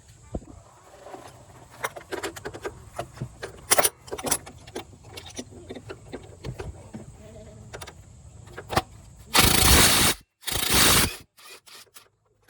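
Tools working on engine mount bolts of a Nissan: irregular metallic clicks, ratchet taps and clinks close by, ending with two loud bursts of power-tool or impact noise.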